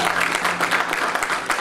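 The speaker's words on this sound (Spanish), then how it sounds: "Dale un aplauso, Dios lo revive." A church congregation claps together, a dense burst of applause close by that runs on without a break through the whole moment.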